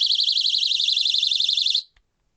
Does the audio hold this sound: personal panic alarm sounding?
yes